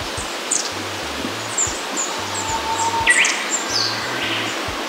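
Thin high calls from a small group of four long-tailed tits, probably young birds, in woodland in northern Harima, Hyogo, Japan. Several brief, faint tsee and chirp notes are scattered over steady background hiss and low rumble.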